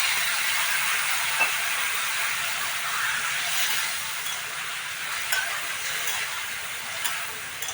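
Potatoes and spices fry in a pan with a splash of water, giving a steady, close hiss of sizzling and steaming with faint stirring clicks throughout.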